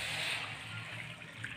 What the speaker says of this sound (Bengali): গরম জলটা দিয়ে দিলাম কড়াইতে।